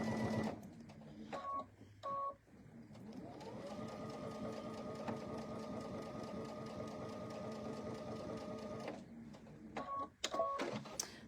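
A sewing machine stitches close to the edge of a fall pumpkin pillow in one long, steady whirring run, with short bursts and clicks just before and after.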